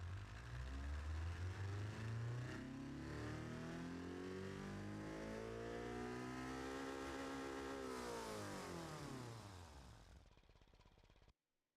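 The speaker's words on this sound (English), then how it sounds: "it sounds like a motorbike, and then it sounds like an actual, like, it sounds like a freaking Civic. Civic with freaking VTEC over here going." A car engine in a video game revs hard and loud, its pitch climbing steadily, holding a high whine, then falling away before cutting off abruptly near the end.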